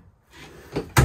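A storage drawer in a 2024 Jayco Eagle 355MBQS fifth wheel slides along its runner and shuts with a sharp, close thump at the end.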